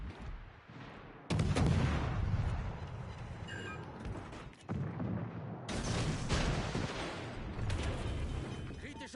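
Naval gunfire from a destroyer in a video game, heavy booming shots and rumbling bursts rolling in waves with sharp onsets, loud, with a voice speaking over parts of it.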